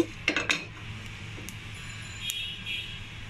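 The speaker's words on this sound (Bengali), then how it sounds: "ছোট ছোট যে মশলাগুলো আছে সেগুলো যখন একটু একটু করে ফুটা শুরু করবে তখনই বুঝতে পারবেন যে মশলাটা ভাজা একেবারে পারফেক্টভাবে হয়ে গেছে" Whole garam masala spices dry roasting in a pan, with light metallic clinks and taps of a utensil against the pan and faint crackling, close and quiet, no voices.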